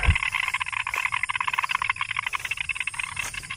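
A dense chorus of frogs croaks continuously after a night of rain, loud and rhythmic, with many overlapping calls pulsing steadily throughout, on a farm in the Philippines.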